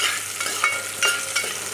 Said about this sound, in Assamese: তেলত পিঁয়াজ ভাজি আছোঁ